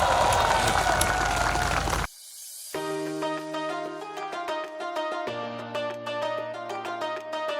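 A large outdoor crowd gathered with the Pekanbaru mayor for a night event with street workers bursts into loud, dense applause and cheering for about two seconds before music takes over.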